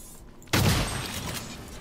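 A single sharp, loud pump shotgun blast cracks suddenly after a quiet moment, followed by a lingering rumbling tail, in the video game Prey.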